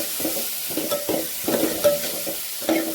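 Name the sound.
coriander leaves being sautéed in a pan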